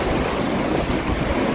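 Strong, cold wind blows by the sea in foggy, drizzly Estonian weather, a steady, loud broadband rush mixed with surf and buffeting the microphone, with no voices.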